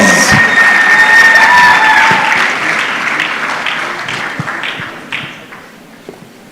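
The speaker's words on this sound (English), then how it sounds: "Let's give him a round of applause." Applause from an award ceremony crowd for the board chair, loud dense clapping with a few whistles and cheers at the start, gradually fading to scattered claps.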